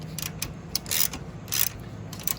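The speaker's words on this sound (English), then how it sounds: "as we're tightening the crash bar bolt up, this slides into place" Crash bar bolt being tightened on a motorcycle during a jersey bracket install, heard as a few close, sharp metallic ratcheting clicks and bursts with brief pauses between them, no talking.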